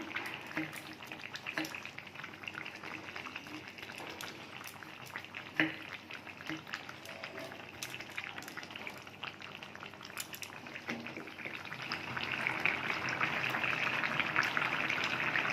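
Fish curry simmering in a covered pot on a gas stove gives a steady, close bubbling hiss with scattered small pops, swelling a little louder near the end.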